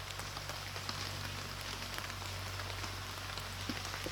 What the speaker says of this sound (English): it's not actually too bad, this rain at the moment